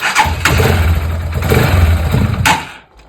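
A 2023 Geon X-Road 250 motorcycle engine with a PZ30 accelerator-pump carburetor sputters to life and revs loudly, with the low rumble running steadily for a few seconds before cutting out; the battery is weak.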